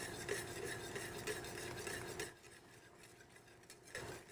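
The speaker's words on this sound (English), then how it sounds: "I'm going to add a little at a time and whisk it, start whisking continually" Whisk strokes beat steadily through coq au vin sauce as beurre manié is worked in, a busy scraping rhythm for about two seconds that then drops to a quieter swirl with a brief return near the end.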